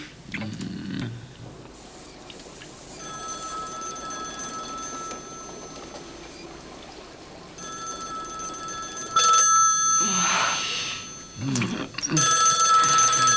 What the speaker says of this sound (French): Alors, Terry, le téléphone!